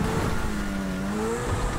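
A newly acquired car in GTA 5 Online accelerates hard, its engine droning and rising steadily in pitch throughout, loud and continuous.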